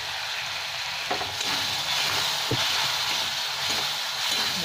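Small fish sizzle and fry in a pan coated with spice paste of cumin, coriander, chilli, turmeric, salt and tomato, a steady close hiss with a few stirring clicks and no voices.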